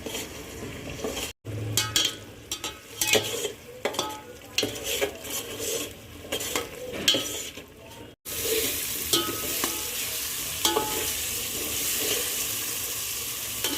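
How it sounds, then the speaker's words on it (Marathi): Finely chopped onion for chicken biryani sautéing in a hot pan, a steady close sizzle with scraping stirring strokes throughout and a brief break before the frying noise swells louder and denser. "हा बारीक केलेला कांदाही आता चांगला परतून घ्यायचा आहे आपल्याला"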